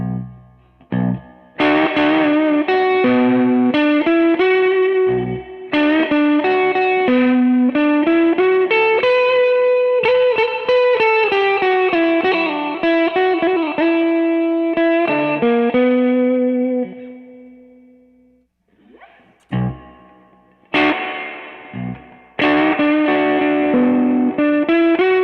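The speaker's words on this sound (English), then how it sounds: "Here's a quick A/B sound comparison between the pedal and the built-in reverb in my amp" Electric guitar played through a Topanga reverb pedal and then through an amp's built-in reverb, strummed chords and single-note lines ringing out with lush reverb tails, a brief pause near the end before playing resumes.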